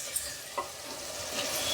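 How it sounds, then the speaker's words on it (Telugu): Chopped tomato frying in a pan for an egg curry, a steady soft sizzle with a few faint stirring clicks, close and alone with no talk. "ఆ టమాటా కట్ చేసి వేస్తున్నాయి ఇదే టైంలో. అన్నీ వేగిపోతాయి మనకి మంచిగా."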